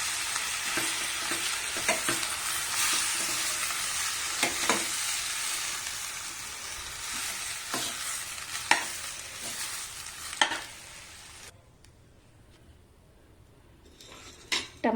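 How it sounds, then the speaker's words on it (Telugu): Tomato pieces and onions being stirred in a frying pan for tomato curry, a utensil scraping and clinking steadily against the metal over a continuous sizzle, with a brief quieter stretch near the end before a few last knocks. "టమాటా ముక్కలు, ఉల్లిపాయలు అంతా చక్కగా ఒకసారి కలపండి."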